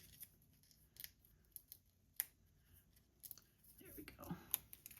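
Scissors snip paper for a journal card in several quick, soft cuts, close and quiet, followed by light paper rustling.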